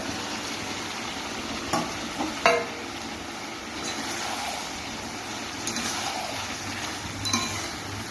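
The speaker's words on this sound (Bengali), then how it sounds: "এবার মাছগুলোকে দিয়ে দেবো" Small chapila fish go into a hot frying pan for a spicy jhal and are stirred, with a steady sizzle, a couple of sharp utensil clinks near the start and scraping stirs throughout.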